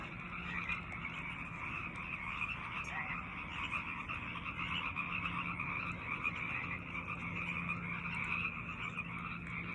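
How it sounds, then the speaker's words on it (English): A dense chorus of frogs croaks steadily in a marsh-like wetland at twilight, an unbroken overlapping trill that stays even and fairly loud throughout, with no voices. "with that beautiful accompaniment by a living chorus of frogs"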